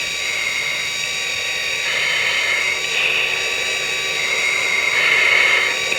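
A Lightning jet fighter's engine roars steadily into reheat, its afterburner producing a loud, sustained broadband rush with whining tones that swells slightly toward the end.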